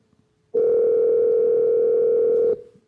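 A telephone dial tone sounds while a call is placed through Google Voice, a loud, steady, close hum lasting about two seconds before it cuts off.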